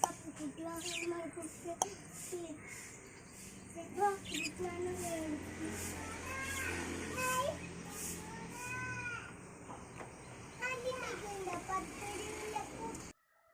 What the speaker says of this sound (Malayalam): ഇത് ലവ് ബേർഡ്സ് ആണ് കേട്ടോ രണ്ട് ലവ് ബേർഡും ഉണ്ട്